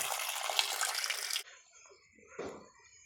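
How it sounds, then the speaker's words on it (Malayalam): Water from an outside hose flushing down a cleared blocked drain, a bright splashing gush for about a second and a half that cuts off abruptly, followed by faint trickles and a brief gurgle. "വെള്ളം ഞാൻ പുറത്തുനിന്ന് കൊടുത്തു. വെള്ളം ഇപ്പോൾ കൂളായിട്ട് പോകുന്നുണ്ട്"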